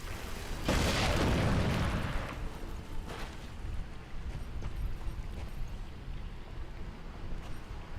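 A bomb exploding in a video game, one loud deep boom with a rumbling blast tail that fades over a couple of seconds into a low continuous background rumble, with no talking.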